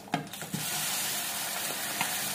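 Tempering spices for a taro curry sizzle steadily in hot oil, with a few sharp stirring clinks against the pan early on, loud and close.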